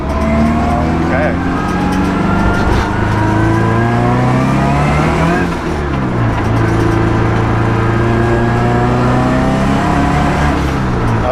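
Scion FR-S engine revving hard and steadily, then sagging and bogging partway through before picking back up, loud and close throughout with a rough, continuous drone.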